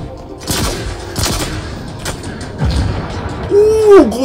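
Heavy gunfire from a large weapon in Halo Infinite on Xbox Series X: several loud, booming shots with sharp attacks, spaced about a second apart, followed by a rising whirring charge-up tone near the end.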